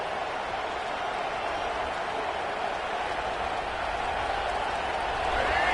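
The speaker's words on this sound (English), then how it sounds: "listen to this crowd coming through" A large stadium crowd at a college football playoff game gives off a steady, distant roar of cheering and applause, continuous and fairly even, rising slightly at the very end.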